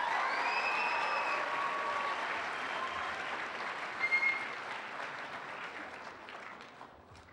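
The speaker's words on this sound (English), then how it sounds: "Let's give him a big round of applause." Audience at an award night applauding steadily, a dense wash of clapping from a crowd heard at a distance, gradually tapering off over several seconds without voices.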